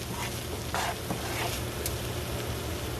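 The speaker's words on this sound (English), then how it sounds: "just going to mix this all together until we smell the fragrance of the pepper, the curry, and the grung" Curry paste with pepper fries in a pan for Prohok Ktiss, a constant close sizzle with the soft scrape of stirring mixed through it.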